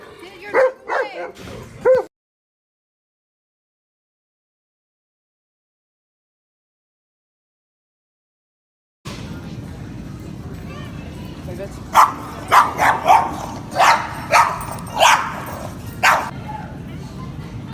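A dog barks and yips inside a store, a few sharp barks and whimpers coming close by after a brief silence, while people talk over it.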